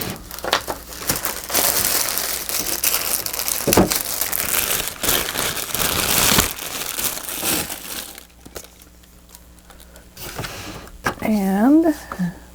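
Paper being cut out for a nature journal gives close, loud crinkling and crunching for several seconds. Quieter rustles follow, and a voice is heard near the end.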